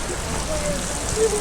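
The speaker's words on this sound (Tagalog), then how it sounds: "Ang lakas ng ulan." Heavy rain pours steadily on a vehicle climbing a mountain road at Socorro, a dense constant wash of noise with no break.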